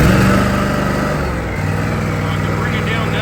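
A Toro Dingo 323 compact utility loader engine turning over and catching, then running with a steady mid-pitched drone whose pitch steps down as it settles, loud and close.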